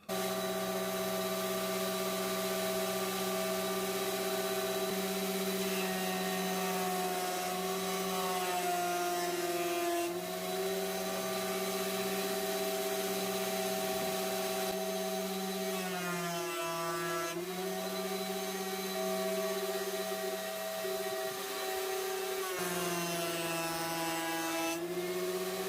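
A benchtop planer drones loudly and steadily with a strong motor hum as a piece of timber is fed through to flatten one side, the pitch dipping briefly when the blades bite into the wood.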